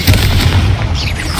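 A Confringo fire spell in Hogwarts Legacy bursts with a loud, booming blast that rumbles and crackles on for over a second, heavy low-end energy dominating without any voice.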